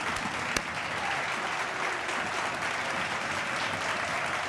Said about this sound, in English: An incredible ovation also.